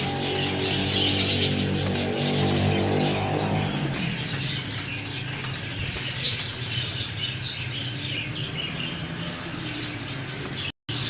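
Jaller breed pigeons make soft cooing and wing flaps against a steady humming background, with low harmonic tones early on, and a faint bird chirp carries through.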